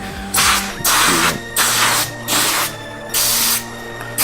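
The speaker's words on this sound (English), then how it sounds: "You just have to spray it." Repeated short hissing bursts from a can of compressed air duster spraying into an HP Compaq 8510w laptop, six in a row with brief gaps between them, loud and close.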